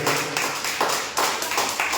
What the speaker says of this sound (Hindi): जोरदार ताली आइए हम परमेश्वर के लिए बजाएंगे।